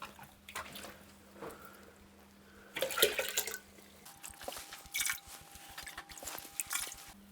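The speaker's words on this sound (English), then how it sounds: "I'm going to have to scoop water out of this again" Water being scooped out of a rainwater drain in a garage, with irregular sloshing, dripping and splashing, some louder scoops midway, and a faint steady hum in the background.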